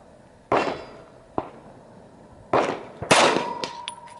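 A Glock 40 Gen 4 MOS handgun fires four sharp, loud shots at a 12-inch steel plate about 100 yards downrange, spaced unevenly, the last strike followed by a clear lingering metallic ring.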